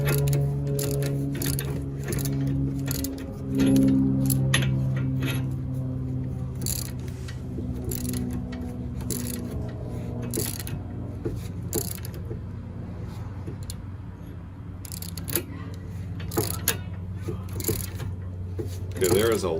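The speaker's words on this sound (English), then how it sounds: "we're going to use a ratchet and a socket to tighten it down" A ratchet and socket tighten a ball joint on a Hyundai Elantra, with repeated clicking ratchet strokes in uneven bursts close by, mixed with clunks and someone talking over much of it.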